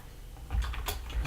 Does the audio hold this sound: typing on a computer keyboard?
yes